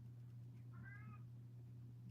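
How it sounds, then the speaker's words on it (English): A new female kitten gives a single clear meow, short and mid-pitched, set against a steady low indoor hum with no talking. "Oh, you can hear that new kitten of mine."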